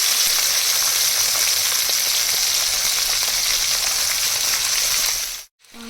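Chopped vegetables frying in a pan for chilli fish, a loud, constant hiss of hot oil close by that cuts off abruptly near the end.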